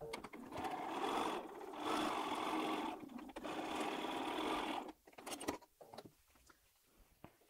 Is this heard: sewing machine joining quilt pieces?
yes